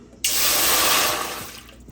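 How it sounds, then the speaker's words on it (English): Tap water gushes into an already hot cooking pot being filled to boil cut corn for corn in coconut milk, a steady loud rushing pour that starts abruptly and tapers slightly, with no talking. "Alright guys, so we're going to start by adding our water."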